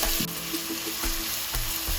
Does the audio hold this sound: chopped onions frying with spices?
yes